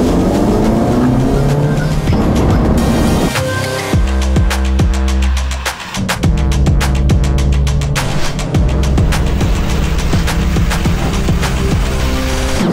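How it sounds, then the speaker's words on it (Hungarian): A Suzuki car accelerates hard toward its top speed, the engine climbing through the revs with a brief dip as it shifts gear, then droning loud and steady with a dense rattling texture. "Induljunk, nézzük akkor meg, hogy mekkora az autó végsebessége."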